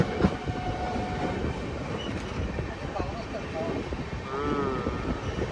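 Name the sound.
train arriving at station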